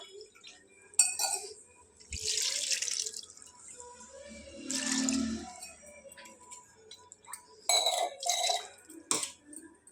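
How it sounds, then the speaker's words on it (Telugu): Water from a glass splashes into a blended cashew paste in short bursts, each pour a few seconds long with quiet gaps and small clinks between, close and moderately loud. "ఇందులోనే ఒక గ్లాసు వాటర్ యాడ్ చేసుకుందాం"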